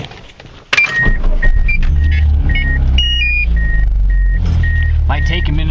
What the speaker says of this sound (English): So I'm going to start the car and show you what I mean